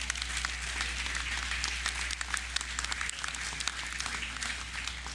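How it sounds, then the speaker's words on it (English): Audience applause at a National Heroes Day ceremony, a steady wash of many hands clapping that holds at an even level for the full five seconds, with a low hum running underneath. "Let's give those ladies a round of applause as well."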